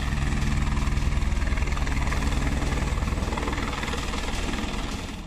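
Steady low mechanical rotor drone of a helicopter flying over a high-altitude forested area during an army search operation, a continuous throbbing hum that fades slightly toward the end.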